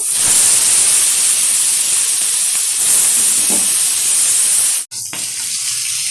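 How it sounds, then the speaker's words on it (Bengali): Salted, cleaned sea bele fish fry in hot oil, a loud, continuous, close hiss that drops out briefly near the end before resuming. "এখন আস্তে আস্তে করে বেলে মাছগুলো আমি তেলের মধ্যে ছেড়ে ভেজে নেব।"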